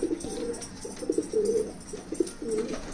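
A female racing pigeon coos in a series of soft, low rounded calls, repeated in several bursts, fairly close and alone with no talk.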